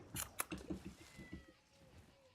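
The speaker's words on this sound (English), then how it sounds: "Don't meow into the microphone." A pet cat meows close to the microphone in a short burst of harmonic cries, with faint background noise and a brief thin tone trailing off afterward.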